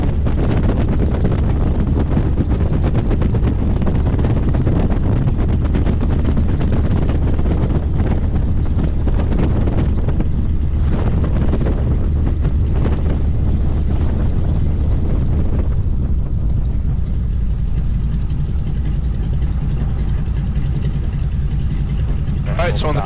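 A P-51 Mustang engine builds power for the takeoff roll, a loud, steady, rumbling drone that fills the whole stretch beneath an instructor's continuous talk.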